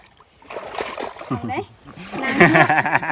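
A person splashing while swimming in reservoir water, brief watery splashes over a few seconds under lively talk from people nearby.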